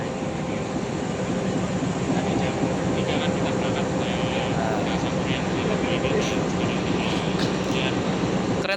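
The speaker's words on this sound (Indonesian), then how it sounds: "KA Sangkuriang telah tiba di stasiun Surabaya Gubeng" The KA Sangkuriang train rumbles into Surabaya Gubeng station with a continuous, loud roar of wheels and carriages, with clanking and squealing accents toward the end.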